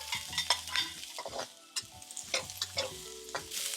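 Onions and carrots fry in hot oil for fried rice, giving a steady close sizzle broken by repeated stirring scrapes and clinks of a utensil against the pan.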